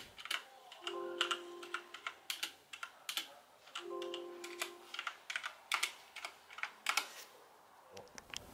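Typing on a white Gundam-themed ROG mechanical keyboard with Cherry MX Red switches: crisp, fairly soft keystrokes in quick irregular bursts, close and clear, with a faint electronic tone beneath.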